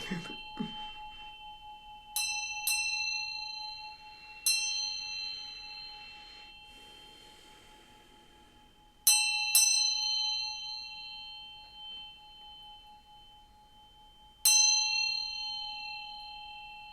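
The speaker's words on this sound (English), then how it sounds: "I'm going to ring this bell to bring some good vibes" A hand bell is struck about six times at irregular intervals, each strike a bright, clear metallic ring that sustains and slowly fades into the next, loud and close, with a faint voice briefly at the start.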